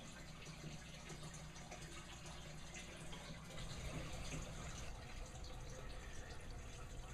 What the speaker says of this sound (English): The siphon is working and it's draining.